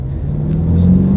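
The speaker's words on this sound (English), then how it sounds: "Don't launch the car, but just give it some gas." A 2022 Subaru BRZ engine revs under throttle from inside the car, a loud close rumble rising steadily in pitch and volume, with no talk.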